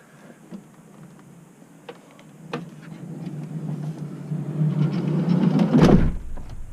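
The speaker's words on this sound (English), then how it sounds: "I'll go ahead and close this door so there's less glare." A sliding door on a vehicle interior is drawn along its track, a rising rumbling slide building over several seconds to a loud closing thud near the end, close and alone without speech.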